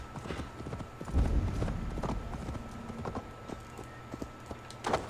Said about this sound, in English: Fuck you, horse.